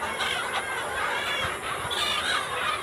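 Chickens on a poultry farm floor during vaccination, giving a dense continuous chorus of clucking and chattering from many birds at close range, with no voices.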